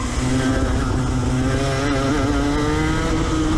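A go-kart engine drones steadily and loudly throughout a race at the TKC Athboy track, its pitch rising and wavering as the kart is driven wide around the corners, with no talk over it.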